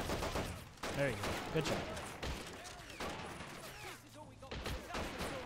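Gunfire from the Men of War: Assault Squad 2 video game rattles in bursts and booms under a player's voice talking over the top.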